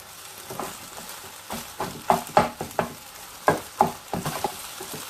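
An egg frying in a pan for egg fried rice, soft sizzling under a series of sharp stirring and scraping clicks from a spatula, moderately close and irregular.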